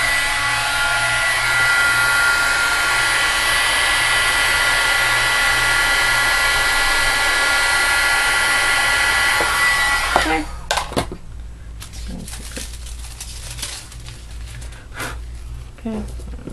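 A heat tool blows hard on Minc foil at a laminator station, making a steady, loud whoosh for about ten seconds before it cuts off. Quieter handling clatter and bumps follow.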